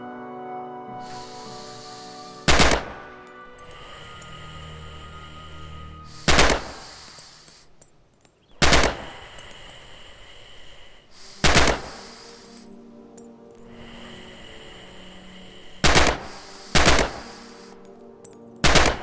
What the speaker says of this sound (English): Free fire at the targets on the range.